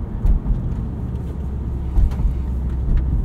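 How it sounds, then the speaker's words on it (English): A 2022 Subaru WRX with a 2.4-liter turbocharged engine and six-speed manual drives along, giving a steady low engine drone and road rumble from inside the cabin, with slight surges in loudness. "Still a little bit of turbo lag from this engine"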